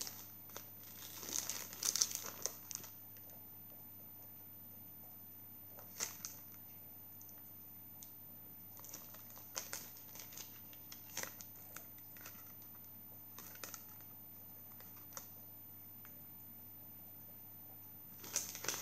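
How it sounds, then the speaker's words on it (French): Sheets of A4 metallic paper in emerald green being handled, quiet intermittent crinkles and rustles scattered through a faint background hum, close and soft with no talk. "Donc du papier métallique."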